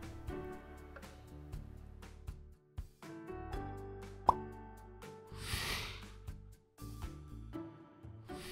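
Thick wheat starch paste being scooped and transferred into a container, giving a run of close, soft wet plops and dull knocks from the utensil against the vessel, with a few quieter gaps between them.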